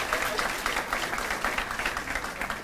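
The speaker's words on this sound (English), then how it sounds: "I think they deserve a round of applause for that" An audience at an all-sports banquet applauds a volleyball team, a dense, even wash of many hands clapping together, moderately loud and sustained from start to finish.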